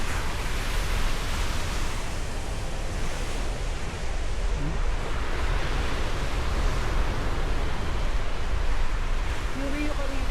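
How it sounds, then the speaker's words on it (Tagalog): Strong surf rolls onto an Iberostar resort beach under a red warning flag, a steady, loud roar of crashing waves mixed with wind rush that continues throughout. "Malakas ang alon na yun."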